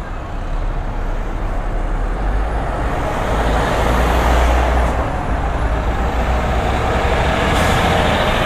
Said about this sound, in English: Traffic's really busy here today.